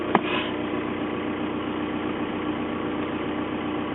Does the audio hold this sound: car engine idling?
yes